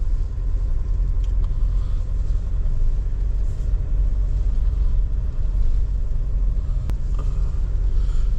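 Heard from inside the cabin, a 2022 Nissan Terra VL 4x4 drives over dry sandy ground where mud usually lies, its engine and tires making a steady low rumble with occasional small knocks and no speech.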